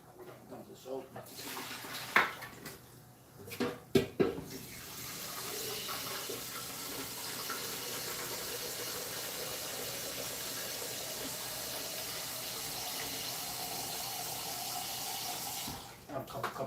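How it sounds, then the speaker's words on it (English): A kitchen sink tap runs in a steady, close hiss for about twelve seconds, preceded by a few knocks and clatters of dishes and ending with the tap shut off. "Run the fucking water here."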